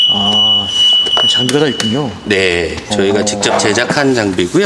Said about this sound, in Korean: 후진등은 얘 같은 경우는 등이 없어서 알람으로 되기 때문에